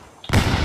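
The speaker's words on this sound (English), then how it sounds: "Explosions." A sudden loud blast of explosions in the Arma 3 video game erupts after a quiet moment and rumbles on as a dense, sustained roar.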